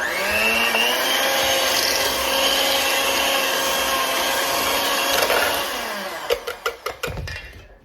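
An electric mixer whips lemon ricotta cheesecake filling, a loud continuous whirring hum for about six seconds that stops, followed by several sharp knocks and taps.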